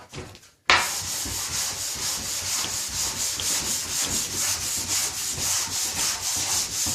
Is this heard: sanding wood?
yes